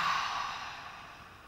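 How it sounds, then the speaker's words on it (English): One long, soft exhale through the nose or mouth during a Kapalabhati pranayama yoga session, a breathy hiss that fades gradually, heard close and alone. "And then exhale, release."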